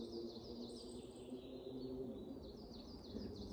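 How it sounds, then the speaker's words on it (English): Birds chirp and sing in bursts of high, twittering calls over a steady outdoor ambience in a Swedish forest in spring, fairly faint and distant, with no talking. "Listen, the birds are amazing."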